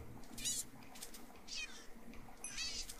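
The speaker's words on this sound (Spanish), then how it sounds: "bueno, gatitos." Cats meow in Minecraft, three short high-pitched mews spaced about a second apart over a low, steady game background hum.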